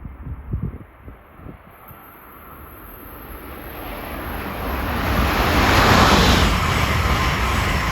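A high-speed Amtrak train passes on a 150 mph mainline near Princeton, its roar building steadily from a distance into a broad, loud rushing wash that peaks and holds as the cars fly by.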